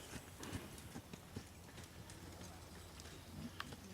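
A horse trotting on a lead rope during a first ride, steady rhythmic hoof beats at moderate distance under a faint background hiss.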